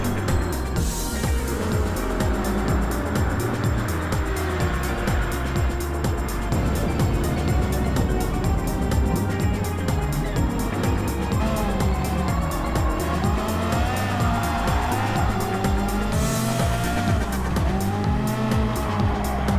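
Race cars, an ACR Viper among them, roar together in a racing video game; loud, steady engine drone with repeated tire squeals and skids throughout, no voices.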